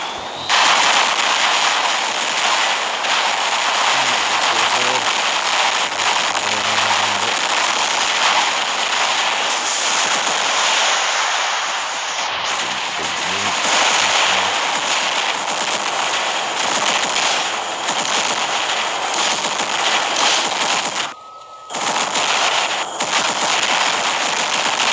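Gunfire in the War Robots video game, dense and loud, with rapid machine-gun bursts and crackling blasts running almost continuously, briefly cutting out near the end.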